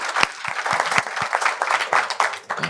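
A studio audience applauds at a Malian trophy-awards discussion show, a close, lively burst of individual claps with a quick, uneven rhythm that swells and dips over a couple of seconds.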